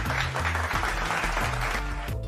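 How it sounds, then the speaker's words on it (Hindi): Steady applause and clapping fill the whole stretch at moderate volume, with low droning tones underneath. "अरे यार तालियां तो बजा दो।"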